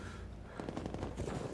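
Bursts of automatic gunfire in the Call of Duty: Black Ops Cold War multiplayer mode, dense and rapid, starting after a quieter opening and continuing in overlapping volleys over a steady battle rumble.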